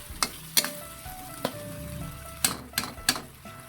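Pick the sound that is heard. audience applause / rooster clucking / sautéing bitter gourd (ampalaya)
sautéing bitter gourd (ampalaya)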